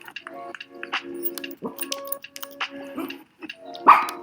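A dog barks in short bursts between stretches of a woman's speech, a few loud yaps close to the microphone mixed with her talking.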